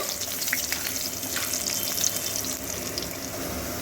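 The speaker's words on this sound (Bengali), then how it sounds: "আলুগুলোকে একটু ভালো করে ভেজে নেব" Cut potatoes frying with white cumin seeds in a pan, producing a dense continuous sizzle and crackle up close, with no voices.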